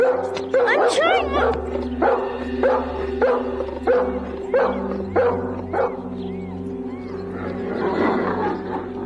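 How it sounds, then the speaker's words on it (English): A dog barks repeatedly at a cottage, sharp loud woofs in an irregular series under music and a voice speaking. "Debbie, take the dog away, please."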